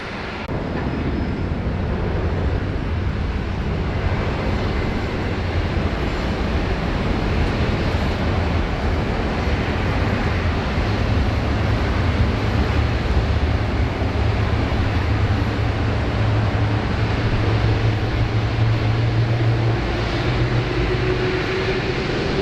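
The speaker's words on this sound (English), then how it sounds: "Hopefully we have some beautiful sound from the China Eastern A330 down below" A China Eastern Airbus A330 taking off at Sydney Airport, a broad continuous jet roar with a deep rumble that holds steady and loud throughout, heard from outdoors with no one talking.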